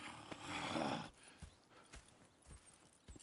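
Horses in the Red Dead Redemption video game, with soft hoof clip-clops and a brief whinny over a low background.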